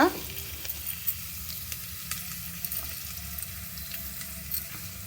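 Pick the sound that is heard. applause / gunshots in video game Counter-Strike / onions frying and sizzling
onions frying and sizzling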